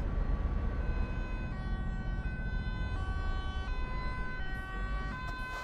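A fire engine siren in Euro Truck Simulator 2 cycles through a steady two-tone wail, loud and continuous over a deep rumble of traffic and engine noise.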